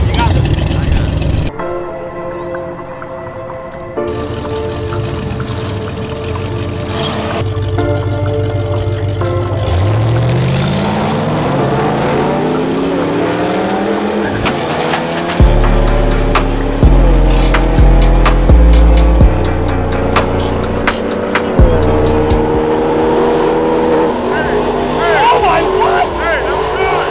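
A 1932 Plymouth rat rod built from spare shop parts launches at a drag strip, its engine revving and climbing in pitch through hard acceleration, loud and close, with brief gear changes and people talking at the start.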